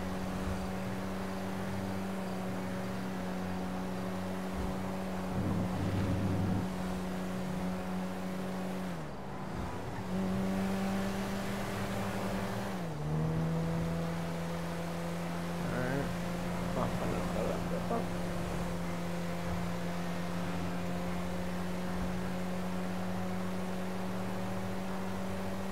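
Fast car driving in Grand Theft Auto 5, a sustained engine drone with steady tonal whine that dips and shifts pitch a couple of times as it changes gear or slows, continuous and fairly even.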